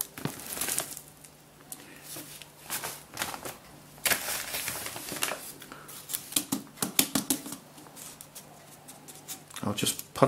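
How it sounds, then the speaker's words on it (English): Hands pat and press cactus and succulent potting mix around a repotted jade plant, giving soft, close, crisp crumbling taps in uneven bursts, with a gritty rustle between pats. "I'll just pat it down a little."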